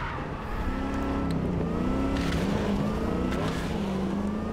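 A damaged car in Cyberpunk 2077 drones with a continuous engine whine whose pitch wavers and climbs under acceleration, loud and close, with rough, strained overtones throughout.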